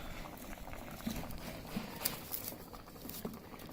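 Rui fish curry bubbles in a pot on a wood-fired clay stove while a spatula stirs it, giving a close, busy patter of simmering with a few soft scraping clicks.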